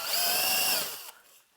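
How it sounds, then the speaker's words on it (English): A power drill with a drill bit whines loudly while boring a hole in a metal chassis for a tube phono preamp, running for about a second before spinning down to silence. "It's better to drill it too small because you can always come back with the next size up"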